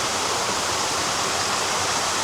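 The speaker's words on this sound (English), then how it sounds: "We've got this absolutely epic waterfall." A large waterfall pours into a deep pool on a rural off-grid property, producing a steady, dense, unbroken roar of rushing water close by.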